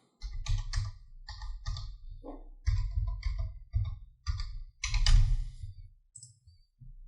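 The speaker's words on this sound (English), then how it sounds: "Type in our password." Fingers type in bursts on a computer keyboard, with quick clusters of crisp, close clicks broken by short pauses.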